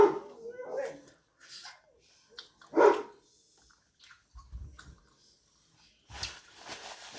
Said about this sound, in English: They just stand there and bark.